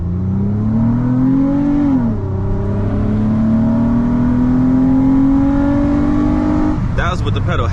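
Hard launch of a 2011 Lexus ES350 with its V6 engine loud and close, revs climbing, dipping at a shift, then holding a steady strained drone as the wheels spin, ending in a brief rattling burst.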